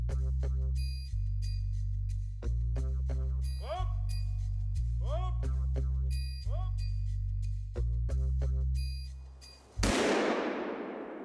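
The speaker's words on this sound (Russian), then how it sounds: "Прозвучал выстрел один. Охота закончена." One loud gunshot ends a hunt in the field. It cracks out abruptly after a sequence of sustained, horn-like musical tones and then decays over about a second.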